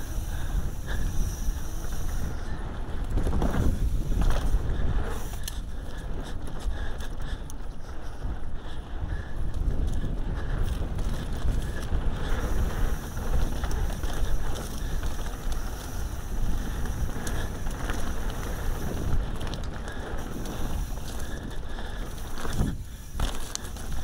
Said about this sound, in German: beim Wind ist das richtig krass.